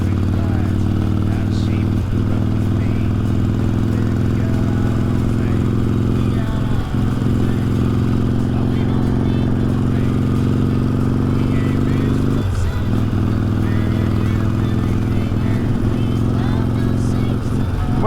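A Harley-Davidson motorcycle cruises along a road with a continuous deep engine drone and low throbbing hum, loud and close throughout, with brief scrapes and clatter over it.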